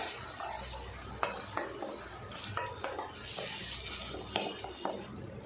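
Ground tomato paste and fresh curd being stirred into chicken masala in a frying pan: repeated scraping spoon strokes against the pan over a low, continuous sizzle.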